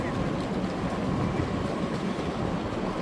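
A DB class 114 train at Frankfurt station gives off a steady, loud rumbling roar with a continuous rolling rail noise throughout, and no voices.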